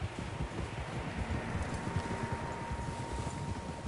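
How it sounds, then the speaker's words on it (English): Horses' hooves clip-clop in Red Dead Redemption 2, a soft steady patter of several hooves over low wind and rustling, faint and continuous with no talk. "Horses, quite a few of them."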